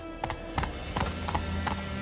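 Roach, Geralt's horse in The Witcher 3, gallops with quick rhythmic hoofbeats, several clopping strikes over a steady ambient hum, close and clear with no talk.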